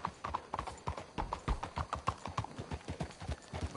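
Horses walk at a steady clip-clop in a video game, hooves striking the ground in a quick, even rhythm for several seconds, fairly close and clear, with nothing else heard.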